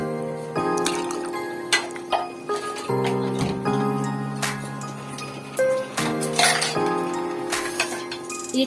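Old steel spoons clink and rattle against one another as they are handled, a string of bright metallic taps at irregular intervals, close and fairly clear, with no talking.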